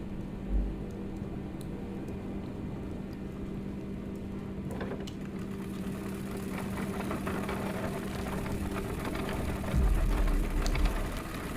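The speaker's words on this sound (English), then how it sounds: "Benz is now starting the engine" Carl Benz's gas engine running in the Trailblazer game, a steady low mechanical hum with a faint rhythmic chugging that stays even and fairly quiet, then swells slightly toward the end.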